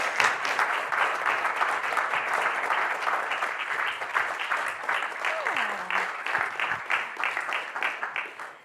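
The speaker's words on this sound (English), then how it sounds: "Big applause." An audience at a talk applauds steadily, dense clapping filling the room for several seconds before starting to thin out toward the end.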